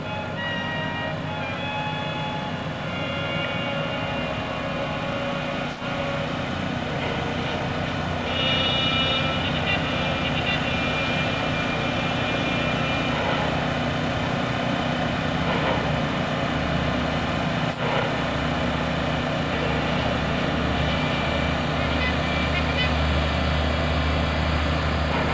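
Four-engine P-3C Orion turboprop patrol plane taking off and climbing at a 2002 naval air station airshow, a loud steady engine roar holding throughout with no talk.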